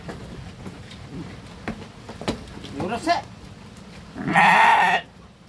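A Garole sheep for sale as a Qurbani animal gives one loud, close bleat near the end, after a stretch of low background sounds and faint talk.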